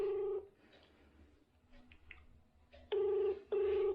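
An outgoing phone call ringing without being answered: a clear electronic ringback tone sounds, breaks off, then returns twice in quick bursts, with faint room noise between them.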